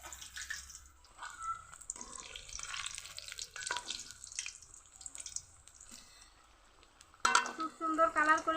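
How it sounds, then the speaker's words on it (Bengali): Potato and onion snack frying in hot oil, a steady close crackle with clattering stirs and drips, growing louder and busier near the end. "খুব সুন্দর কালার করে ভেজে নিয়েছি, এখন তেল থেকে তুলে নিব।"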